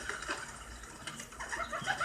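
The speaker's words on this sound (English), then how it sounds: "with all these birds around, I'm starting to feel like I'm in that one Alfred Hitchcock movie" Birds, including pigeons or doves, cooing and calling at a moderate distance, with several soft overlapping calls over a steady background hiss.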